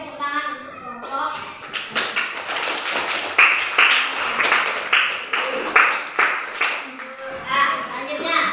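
Children in a classroom clap for a group with bursts of brisk, rhythmic applause lasting several seconds, close and lively, with scattered young voices mixed in and a quieter ending.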